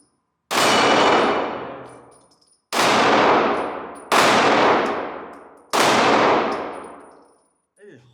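Four loud pistol shots from a Heckler & Koch VP9, each a sharp crack followed by a long ringing decay, fired at steel plates on a shooting range, spaced a second or two apart.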